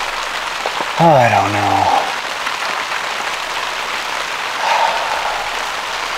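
Steady rain patters outside a tiny home under construction, a continuous broadband hiss that runs through the whole stretch while someone speaks briefly near the start.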